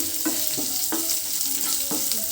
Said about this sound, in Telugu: ఉల్లిపాయ వచ్చేసి దోరగా వేగితేనే చాలు